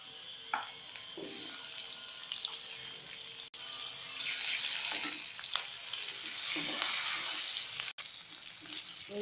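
Onions frying in a little oil for a mutton curry, a steady close sizzle broken by a few clinks and stirring scrapes of a utensil in the pan.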